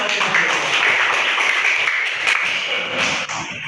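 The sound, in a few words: class of children clapping hands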